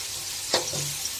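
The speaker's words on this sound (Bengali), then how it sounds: "পেঁয়াজ গুলো একটু ভাজা ভাজা হোক, আমরা পরে আসতেছি।" Onions frying in a pan give a steady close sizzle, with one brief scraping stir in the middle.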